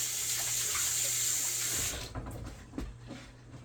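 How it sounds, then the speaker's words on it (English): Kitchen tap runs steadily with a continuous near rush of water as hands are rinsed, then cuts off around two seconds, leaving faint drips and small clatters in a quieter room. "Rinsing hands."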